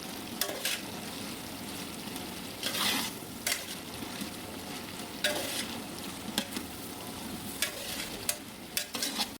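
A large batch of vegetables for vegetable palav fries in oil with a steady sizzle, while a spoon scrapes and clanks against the pot in irregular bursts, close up and without speech.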